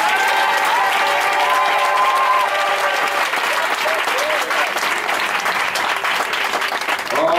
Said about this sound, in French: J'aimerais que tu acclames puissamment le Saint-Esprit.